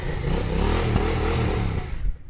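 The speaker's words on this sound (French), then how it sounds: "Donc là on entend bien JP qui fait chanter le moteur." A motorcycle engine revs loudly up close, holding a rising, buzzing pitch before cutting back sharply near the end.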